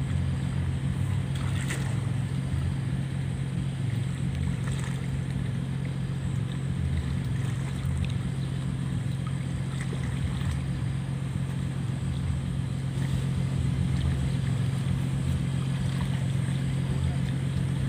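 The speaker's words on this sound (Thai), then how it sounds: "เสียงรถเขาเจ้ามาเอาน้ําอยู่อันทางห้วยเอาไปเฮ็ดงานก่อสร้าง" Truck engine running near a creek as the vehicle draws water for construction work: a steady low rumbling drone throughout, fairly loud and continuous, with faint background noise and no clear talk.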